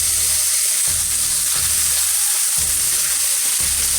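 Steak sizzles loudly in a hot pan, a steady dense frying hiss running without a break, with no voices over it.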